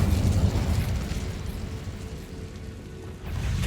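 A fiery Incendio spell burst cast in Hogwarts Legacy, a loud roaring whoosh of flame with dense low rumble that swells at the start, eases through the middle and surges again at the end, with no talking.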